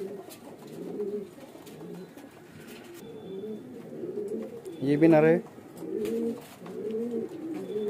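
A domestic pigeon gives one short, rolling coo, close by, beneath someone speaking quietly throughout.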